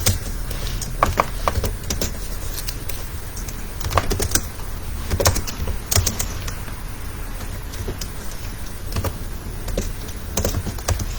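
Someone typing a JavaScript program on a computer keyboard: light, irregular clicking keystrokes come in small clusters over a low, steady background hum, close by, with no voice.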